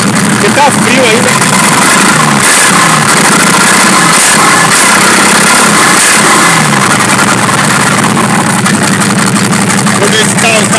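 A cold Chevrolet D60 truck diesel engine idles roughly with an uneven, misfiring chug, loud and close throughout, with faint voices mixed in.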